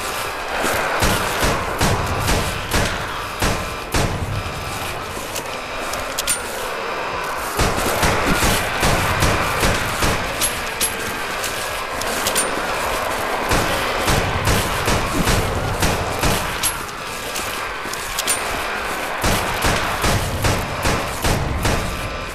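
Gunfire in the video game Total Chaos, a DOOM-engine mod running on GZDoom: loud, rapid bursts of shots and thuds repeating throughout, dense and close, with brief lulls between volleys.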